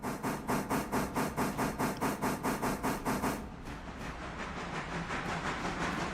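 Steam locomotive in the Railroader game chuffing in a fast, even exhaust rhythm for a few seconds, then easing into a steady hiss of steam, close and loud.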